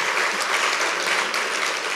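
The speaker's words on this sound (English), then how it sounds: "So I will clap Dr. Kendi if nobody else claps with me." An audience at a library talk applauds Dr. Kendi with dense, steady clapping that is loud and continuous, and no voices come through.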